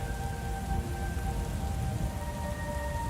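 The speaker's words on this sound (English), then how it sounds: "The cold comes first, thunder growing." Heavy rain pours steadily over a beach during a video-game thunderstorm, a dense, even hiss with a low rumble of thunder underneath, while faint sustained tones hover in the background.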